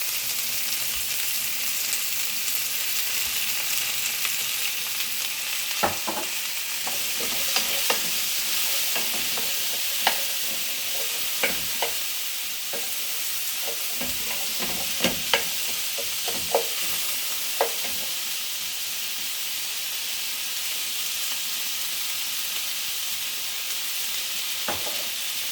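Blue crab curry for a Sri Lankan-style dish fries in oil with a constant loud sizzle, while a utensil scrapes and clacks against the pan in irregular stirring strokes throughout.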